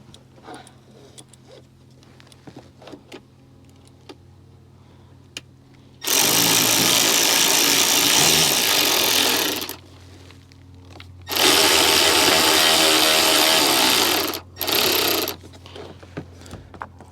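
A handheld power tool drives a screw to mount an LED light bar, running in two long loud whirring bursts and a short one, with faint clicks and handling noises between them.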